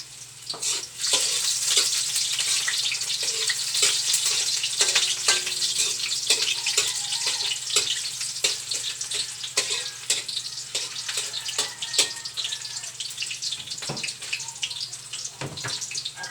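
Heaps of chopped garlic sizzle steadily in a hot pan for Filipino garlic fried rice, a dense continuous crackle with scattered pops and light stirring scrapes, close-up and unbroken for the whole stretch.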